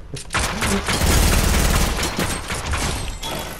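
A combat pistol fires in a video game on a docks map, a loud, rapid volley of close gunshots that blur into a dense, continuous barrage.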